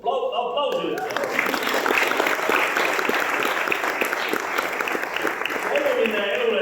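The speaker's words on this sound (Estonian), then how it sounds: "Aplausi üldse." An audience at a basic school graduation ceremony breaks into sustained applause after a brief moment of speech. Many hands clap steadily, fairly close and full, for several seconds.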